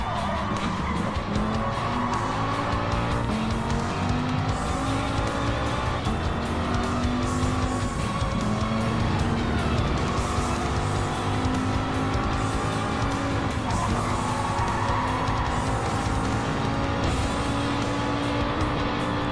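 Race cars roar through the final lap of a racing video game, with steady loud engine drone, shifting revs and repeated tire squeals and skids throughout.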